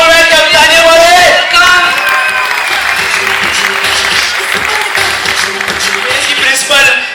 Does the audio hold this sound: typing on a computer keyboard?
no